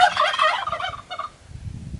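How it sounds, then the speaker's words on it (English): A burst of rapid, gurgling turkey gobbles, close and loud, tapering off quickly. "They love making a lot of noise when you make a lot of noise."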